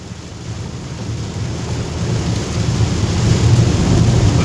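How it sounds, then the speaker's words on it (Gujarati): Heavy monsoon rain pours steadily outdoors, a dense, continuous hiss with low rumbling wind that swells slightly louder toward the end, with no voices. "વરસાદ કેવો ચાલુ છે।"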